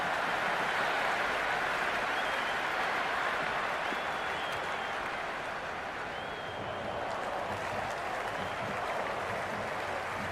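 A cricket video game stadium crowd applauds and roars in a dense, continuous wash that holds steady for about ten seconds, with a faint commentary voice mixed underneath.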